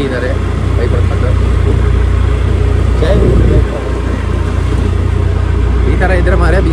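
A motorbike engine idles steadily and loudly up close before a morning ride toward Dudhsagar waterfalls, a constant low rumble with a brief rise in revs, while people talk over it.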